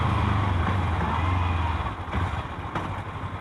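A 2015 Kawasaki Ninja 300 motorcycle engine revving, a loud, close, continuous buzzing drone that eases off partway through and then carries on steadily.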